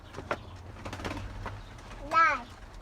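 A pigeon gives a short warbling coo near the end, preceded by soft chatter and a voice.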